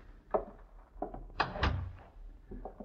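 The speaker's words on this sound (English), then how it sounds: "Close the door, please." A 1950s radio drama sound effect: footsteps and handling sounds, then a door shut with two solid thunks, followed by a few lighter knocks.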